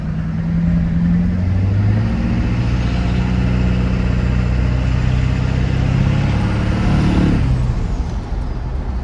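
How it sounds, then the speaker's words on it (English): A 2003 Chevy Silverado with an LB7 Duramax diesel drones loudly and steadily while its transmission shifts roughly, the engine note dropping sharply near the end. "It's shifting a little rough. But at least it's shifting now."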